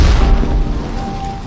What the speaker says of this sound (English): Then an explosion went off.